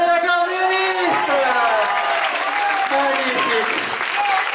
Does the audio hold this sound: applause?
yes